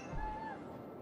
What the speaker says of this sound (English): Seems like the cat wants some attention.